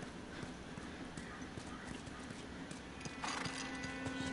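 Steady clip-clop of horse hooves at a walking rhythm in the video game The Last of Us, close and moderately loud, with a game soundtrack hum and a brighter tone entering near the end.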